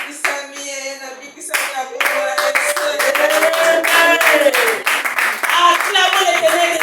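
A church congregation at Sunday worship claps in quick rhythmic bursts, close and fairly loud, under a voice leading exclamations of praise and sung or chanted tones.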